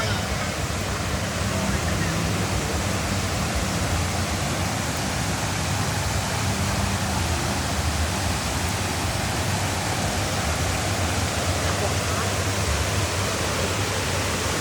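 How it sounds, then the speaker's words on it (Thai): A waterfall pours in a loud, unbroken rush of white water, close by and steady throughout with no other sounds standing out. "นี่ครับเสียงน้ำตก"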